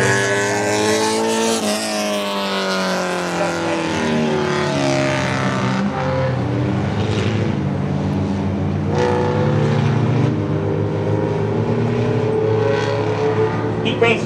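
Pure stock race cars rounding a speedway track during a heat race, their engines droning loud and continuous with rising and falling pitch as they pass, under announcer-style talk.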